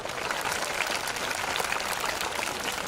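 Steady applause from a sizable audience, continuous and even, moderately loud throughout.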